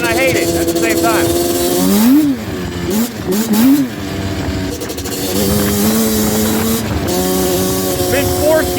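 A Yamaha Banshee ATV engine revs hard up and down as it rides through snow, loud and close with a buzzing two-stroke tone. A rider talks over it.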